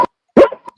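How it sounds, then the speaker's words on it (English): A dog barks twice nearby, loud sharp barks separated by a short pause, with a fainter yelp trailing after the second. "You guys hear my dog?"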